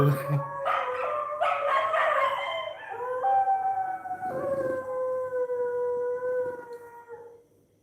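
A dog howls in long, drawn-out wails that rise and hold steady, with several overlapping howls and yips early on, fairly close and clear, before the sound fades out.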